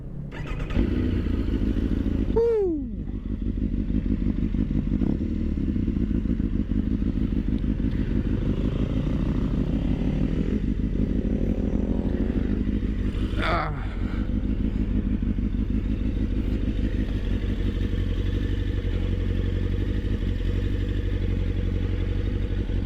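A motorcycle engine runs steadily and loudly close by for the whole stretch, with one brief rising rev and a clunk near the middle, and someone talks faintly underneath.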